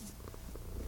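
Rusty the cat purring right up against the microphone, a close, loud, continuous rumbling purr with breathy texture and no talk over it.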